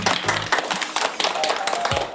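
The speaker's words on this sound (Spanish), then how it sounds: "Todos los amigos aplaudieron a Leo." Friends clapping for Leo, a burst of quick, close claps over a soft, busy room murmur, short and fairly loud throughout.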